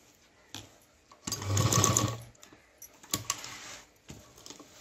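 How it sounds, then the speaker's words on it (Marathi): A sewing machine runs a quick burst of double stitching along a homemade tiffin bag, a rapid mechanical chatter lasting about a second, followed by scattered clicks and handling noise. "तर इथे आता फिरवून मी डबल शिलाई करून घेते"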